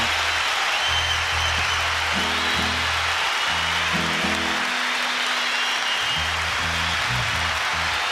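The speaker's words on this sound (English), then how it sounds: "Let's just applause for the next 30 seconds." Concert audience applauding after a live performance, steady broad clapping sustained throughout under low tonal music or hum.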